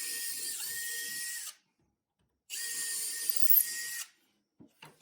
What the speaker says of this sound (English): So, Dad, are you pre-drilling?